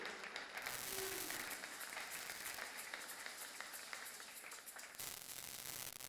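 A church congregation applauding at a worship and thanksgiving service: sustained, dense clapping from many hands that fills the room for several seconds, dipping briefly near the end before continuing.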